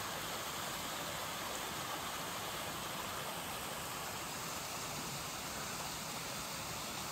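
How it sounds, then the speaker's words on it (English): Water from a small waterfall beside a hillside walking path rushes in a constant, even, hissing wash, steady throughout with no voices. "A little bit of a waterfall."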